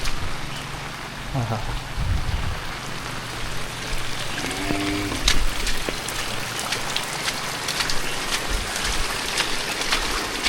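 Steady evening rain falls in the Konkan countryside, a continuous broadband hiss of drops throughout, with a brief voice interjecting near the start.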